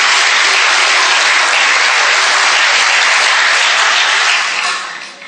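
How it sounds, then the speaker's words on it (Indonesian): Loud, dense applause from a church congregation, many hands clapping together in a steady roar that holds for several seconds before fading off at the end, with no talking. "Tepuk tangan buat Yesus."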